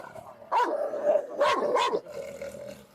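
Several dogs behind a locked gate bark and growl in short, fairly distant bursts. The bursts rise and fall over a steady background, and no one speaks during them.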